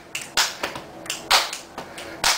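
A few sharp, snappy clicks in a loose rhythm, close by and fairly quiet, mixed with slap-like hits.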